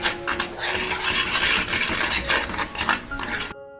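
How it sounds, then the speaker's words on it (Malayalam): A utensil stirs and scrapes a browning banana pudding mixture in a metal pan, close and busy with clinks and scrapes in an uneven rhythm, stopping abruptly at the end. "അതിനുവരെ നമുക്കിങ്ങനെ ഇളക്കിക്കൊണ്ടിരിക്കാം"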